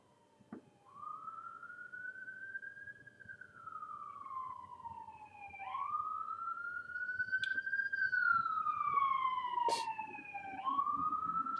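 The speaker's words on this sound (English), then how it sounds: "Listen to the siren." A wailing siren near the Bruce nuclear plant rises and falls in long, slow sweeps, steady and clear at moderate distance, growing slightly louder over time.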